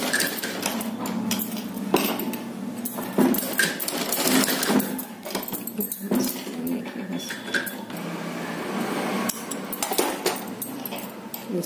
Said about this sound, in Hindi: इस तरह से हमने इसके ऊपर सिलाई लगा दी है।